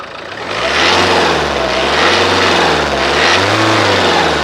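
A 2015 Nissan Terrano XL engine runs loudly up close, rising and falling in pitch as it is revved a couple of times.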